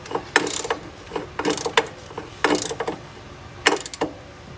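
Nuts tightened onto the rear shock bolts of a Grizzly-series ATV make four bursts of ratcheting wrench clicks, each a quick run of close mechanical clatter separated by short pauses.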